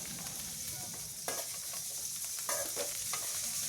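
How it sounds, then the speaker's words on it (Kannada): Fried cauliflower is stirred and tossed with curry leaves in an oiled pan for gobi pepper fry, giving a soft continuous sizzle with scraping spatula strokes and a few louder clacks against the pan. "ಇದಕ್ಕೆ ಎಣ್ಣೆಯಲ್ಲಿ ಕರೆದಿರೋ ಅಂಥ ಗೋಬಿಗಳನ್ನ ಹಾಕ್ಕೊಂಡು ಮಿಕ್ಸ್ ಮಾಡ್ಕೊಳ್ಳೋಣ."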